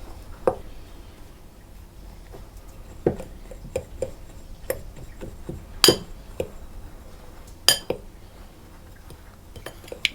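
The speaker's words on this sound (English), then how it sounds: "I'm just going to give those a bit of a stir around to get them combined." Flour and cocoa powder are stirred together in a bowl with a utensil, producing faint soft scraping broken by scattered sharp clinks against the bowl.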